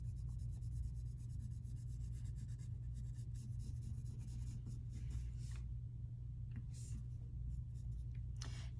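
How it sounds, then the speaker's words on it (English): Pencil shading shadows on a drawing of a hand, a soft continuous scratching of graphite on paper with a few brief louder strokes near the end, under a low steady background hum. "So I'm gonna keep going and draw those shadows."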